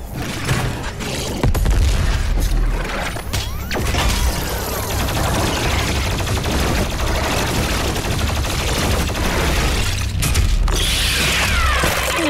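Grenade blasts and heavy weapon fire in the shooter DOOM Eternal, loud booms and clattering bursts layered over a dense mechanical din, close and sustained.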